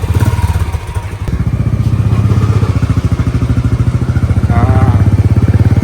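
A motorcycle engine runs loud and close, throbbing in a fast, steady putter as the bike rides along, with occasional clatter over it.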